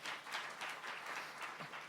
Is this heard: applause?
yes